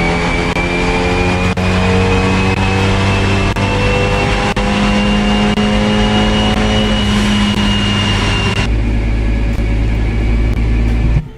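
A Fiat 124 Spider Abarth engine, turbocharged, runs at steady high revs on a dynamometer with a continuous loud drone, then cuts to a lower idle-like rumble near the end; no voices.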